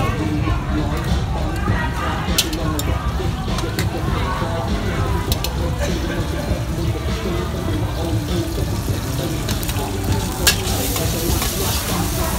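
Pad thai with tofu is stir-fried in a pan at a Bangkok night market, with constant loud sizzling and scraping stirs under a busy street-food din and voices talking nearby.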